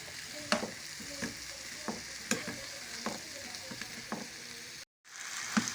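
Mixed vegetables being stirred in a frying pan, a spoon scraping and knocking in a steady rhythm of close, sharp strokes over a soft sizzle, with a brief drop to silence near the end.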